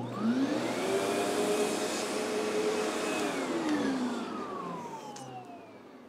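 A Windsor Karcher Sensor XP18 commercial upright vacuum cleaner runs close by with a loud, steady whine that rises in pitch at switch-on and then winds down as the motor slows.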